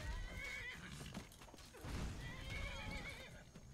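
A horse in the Skyrim video game whinnies and neighs repeatedly, with hoof clip-clops and game ambience underneath, fairly loud and continuous with no speech.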